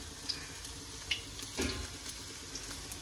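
Vegetables and small cut potatoes frying in oil in a hot wok, a steady low sizzle with a few soft clinks and a brief stir of movement, close and fairly quiet with no talk.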